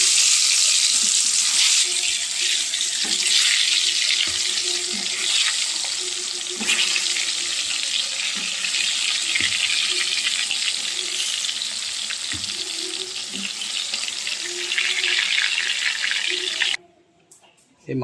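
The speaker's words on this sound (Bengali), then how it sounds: "তেল গরম হয়ে গেছে, আমি একটা একটা করে আলু ভেজে নেব।" Salted potatoes fry one at a time in hot oil for a mutton and potato curry, giving a loud, continuous close-up sizzle with faint clatter that cuts off abruptly near the end.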